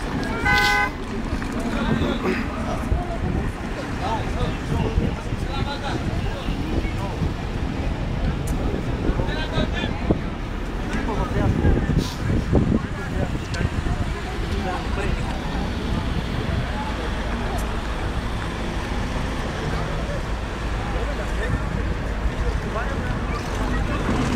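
Motorboat engines drone steadily as boats come into Keramoti harbour, mixed with wind buffeting the microphone and lapping water, while people talk in the background.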